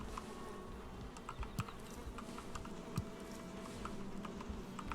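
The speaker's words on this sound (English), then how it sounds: "Oh, the bees have been very happy indeed." Bees at a beehive in the Valheim video game hum in a low, continuous buzz, joined by faint scattered ticks and clicks, with no talk.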